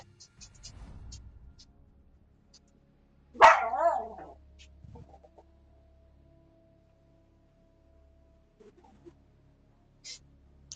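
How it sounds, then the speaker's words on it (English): A single dog barks in a short, loud burst of several yips partway through, standing out over a quiet room with faint background noise before and after. "The dog is barking."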